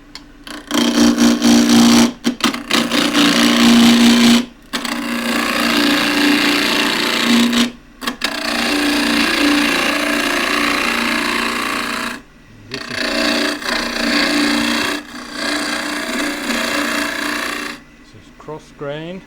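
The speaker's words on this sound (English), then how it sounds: "Half-inch spindle gouge, running at" Half-inch spindle gouge cutting green elm on a wood lathe running at 2000 rpm, producing loud rasping, scraping bursts separated by short silent pauses, with a faint hum under the cuts and no talk.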